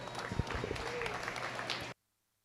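Audience applause at a county goat show arena, a moderate crowd clapping briskly for about two seconds before cutting off abruptly into silence.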